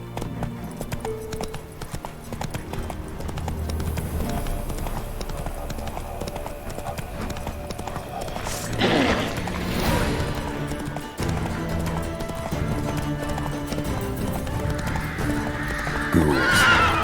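Geralt's horse Roach in The Witcher 3 video game, rapid hooves clip-clopping under a continuous game soundtrack, with a loud neigh partway through and another near the end, close and steady.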